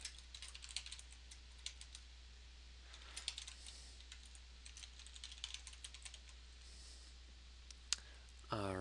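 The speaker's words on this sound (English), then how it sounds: "I will just go ahead and start by typing in a title." Rapid clicking of a computer keyboard as a page title is typed, with quick irregular bursts of keystrokes close by and a brief louder click near the end.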